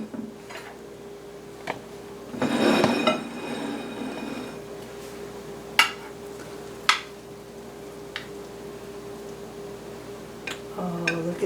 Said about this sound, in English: I'm going to spoon this out so you can take a look at it